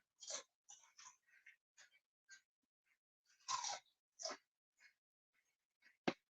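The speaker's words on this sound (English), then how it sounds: "it sounded like you started chewing something" Quiet, close chewing of food: a series of short crunchy bites and mouth clicks in an irregular rhythm, heard through a microphone with no talk.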